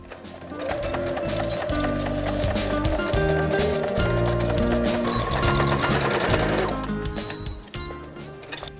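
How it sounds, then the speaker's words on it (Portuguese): A Brother CS6000i sewing machine stitching a side seam, its motor humming in a steady rapid needle rhythm that holds for several seconds before easing off near the end, close and alone. "E vou costurar a lateral."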